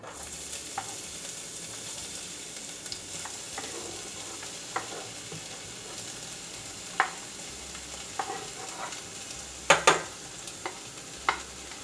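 Onions sizzle softly in olive oil in a pan while food for baked chicken burritos is cooked, with a faint steady fry broken by scattered stirring clicks and a few sharper utensil knocks.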